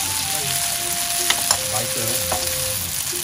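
Pollock roe sizzling in a frying pan, a constant crackling hiss close by with a few faint clinks, while a voice speaks briefly over it.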